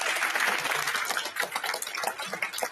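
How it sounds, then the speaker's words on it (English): A crowd at a congressional Holocaust commemoration evening event breaks into a round of applause, a dense, steady patter of clapping heard from the room at moderate volume. "Can we give her a round of applause?"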